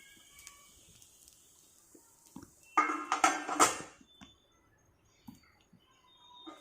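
A metal spoon clinks against an appam pan as rava appam are turned and the lid goes on, a short cluster of bright clanks near the middle, with faint taps before and after in an otherwise quiet kitchen.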